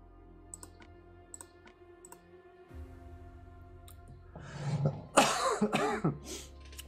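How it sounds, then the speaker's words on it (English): A single person coughs and clears their throat near the microphone during an Empires & Puzzles stream, following a quiet stretch of faint clicking and background hum. "Cannot get rid of this damn cough."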